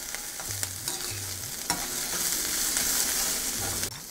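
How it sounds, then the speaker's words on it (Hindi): Mushroom, peas and makhana sizzle steadily in a pan with salt, a spoon scraping and stirring through in short repeated strokes, close and fairly loud with no talking. "और नमक के साथ थोड़ी देर इसको पकाते हैं।"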